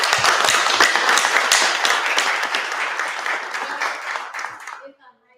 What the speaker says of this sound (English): I just want to give a big round of applause for all of our people